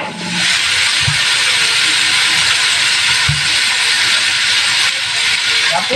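Beef dropped into a hot pan with softened onions, giving a loud, steady, close sizzle that runs throughout, with a couple of soft knocks of the utensil against the pan.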